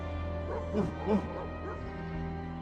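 Several dogs give short yips and whimpering barks in The Da Vinci Code video game on PS2, set at a Normandy mansion, heard in a few quick bursts over a steady hum of game music and ambience.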